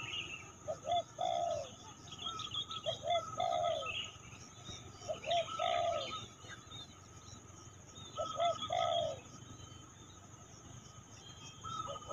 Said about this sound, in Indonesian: itu burung kutilang banyak banget di pohon